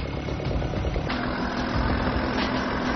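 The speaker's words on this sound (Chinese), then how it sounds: "它是依靠发动机的动力直接驱动卷筒，" Off-road vehicle engine driving a mechanical winch drum during a water-crossing test, a steady low mechanical drone and rumble heard close and continuous, with no voices.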